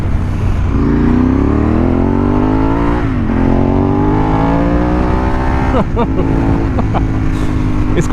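A Ducati 916 SPS motorcycle engine, loud and close while riding, revs climbing through the gears with brief dips at each shift and a sharp crackle near the end, under wind rush.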